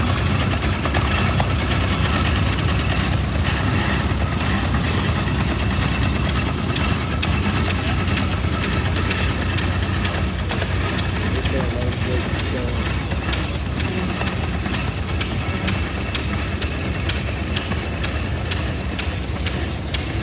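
Rare antique International tractors rolling past in the grand parade of equipment at a steam and gas association show, a continuous rough engine rumble with rapid knocking pulses, and someone talks over it.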